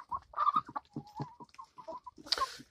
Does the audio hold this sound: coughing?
no